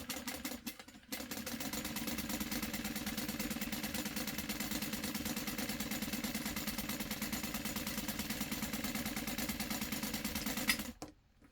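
A sewing machine runs steadily for about ten seconds, stitching bag webbing in a fast, even mechanical whir with no talking, stopping briefly near the start and again at the end.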